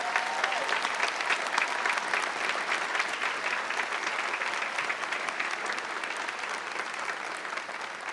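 A large audience at the 2019 UCLA Luskin School of Public Affairs commencement ceremony applauds steadily for Rini and Myra Luskin, a dense, even wash of many hands clapping that holds for the whole stretch without any talk.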